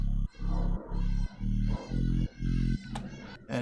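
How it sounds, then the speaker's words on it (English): A simple Afro house bassline tracks the chord changes in pumping, sidechained pulses, deep and thick, about one per half second, alone without vocals, with a brief higher texture near the end. "this bassline is basically a very simple bassline because it just follows the chords"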